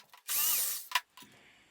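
A power drill boring a pilot hole into a wooden dowel: a short loud whirring burst, then a brief sharp spike and a quieter tail of tool noise, close by.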